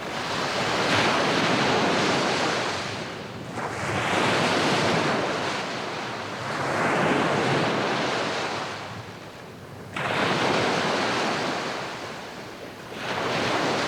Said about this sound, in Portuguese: Ondas que agora sim já começam a bater na praia